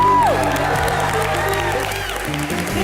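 Studio audience at a Hindi TV comedy show applauds and cheers loudly, a dense crowd roar with whoops mixed into music and background sound throughout.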